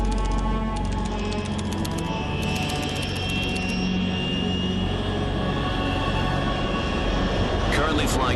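A military aircraft flying high over the Arctic Ocean in the Metal Gear Solid 3 video game, a loud, steady engine roar that holds throughout with no talk.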